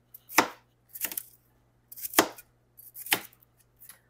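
Onions are chopped with a knife on a cutting board, five or six sharp, close chops in an uneven rhythm with short pauses between them.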